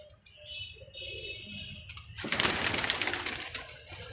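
Pigeons near a rooftop loft call in soft, low coos early on, then a burst of broadband flapping and scuffling noise takes over as birds move about; no talking.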